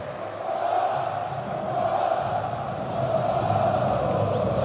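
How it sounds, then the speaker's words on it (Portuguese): A large football crowd roars steadily in a stadium during a Palmeiras versus Vasco league match, a dense, continuous wash of massed voices that swells slightly in volume, with no commentary over it. "tá aí a enorme torcida vascaína. A do Palmeiras agora aumenta o volume."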